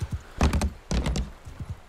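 Horse hooves clop on a wooden surface in Mount & Blade Bannerlord, two clusters of hollow, knocking steps followed by a few lighter footfalls.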